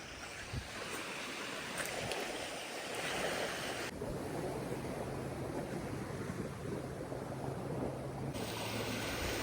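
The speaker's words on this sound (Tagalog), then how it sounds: "Ito tayo dito sa tabi ng dagat." Ocean surf on an island shore in Marinduque rolls in a steady, broad wash of noise, with wind buffeting the microphone throughout and no voices.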